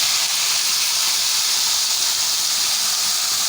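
Onion paste frying in hot oil tempered with cumin, a steady loud hiss and sizzle that holds unbroken from start to finish, close up and alone in a village-style kitchen.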